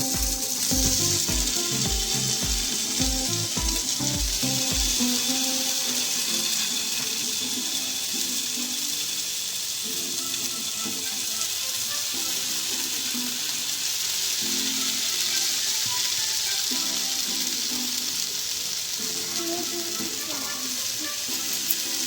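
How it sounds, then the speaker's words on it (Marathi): Two potato slices frying in hot oil in a pan, a steady close sizzle running the whole time after a brief clatter of handling at the start, with no talk over it. "तेल तापल्यानंतर त्याच्यामध्ये बटाट्याच्या दोन स्लाइस पॅनवर ठेवायचं."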